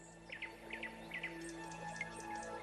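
Small birds chirping and singing in short repeated bursts in an animated cartoon, fairly faint and a little distant, over a quiet steady background hum.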